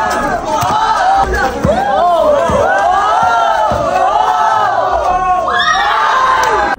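Large crowd at a local basketball game in Purok 4, Quezon City, cheering and shouting continuously, loud and close with excited whoops and children's yells throughout.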